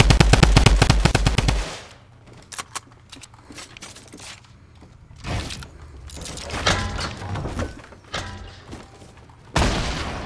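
Rainbow Six Siege gunfire opens with a loud rapid machine-gun burst, then gives way to scattered single shots and shorter bursts, with another loud burst near the end.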